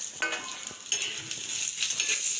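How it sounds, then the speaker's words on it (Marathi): Dry rattling and scraping as coriander seeds and whole spices are dry-roasted in a hot pan, with soft clinks and a faint crackle, no talking. "हे धने आणि खडा मसाला थोडा हा भाजून घ्यायचा"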